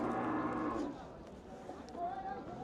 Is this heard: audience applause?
no